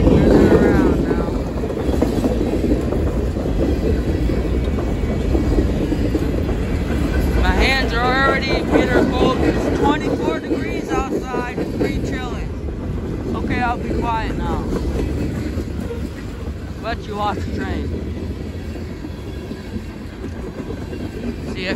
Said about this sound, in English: Awesome tier 4 locomotive it looks like, but I think it's a SC70 Mac.